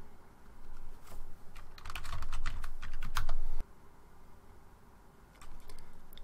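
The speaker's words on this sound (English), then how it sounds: "type in themes in the search bar" Rapid clicking keystrokes on a computer keyboard come in a dense burst for a few seconds, then stop, with a few scattered taps later against a quiet room background.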